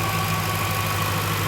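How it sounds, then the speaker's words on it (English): Supercharged engine of a 2005 Jaguar XKR Stirling Moss Edition running at idle, a steady, even hum recorded close up with no voices over it. "Here's the supercharged engine here. Runs like a clock."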